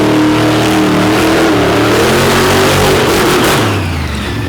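The Playin' Hooky Machine monster truck at an arena show revs its engine hard and close, a loud rising roar that swells and shifts pitch before easing off near the end.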